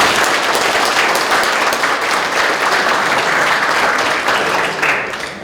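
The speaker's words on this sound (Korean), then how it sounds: "박수 부탁드립니다." Sustained audience applause fills a year-end party hall, steady dense clapping from a crowd that holds throughout and starts to fade in the last moment.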